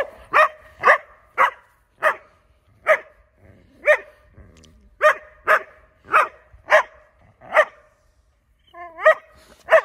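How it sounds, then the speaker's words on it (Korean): A dog barks repeatedly in a steady series of loud, sharp barks about every half second to a second, with one brief pause, ending in a few higher whiny yips. "자기도 모르고 짖고 있어요,"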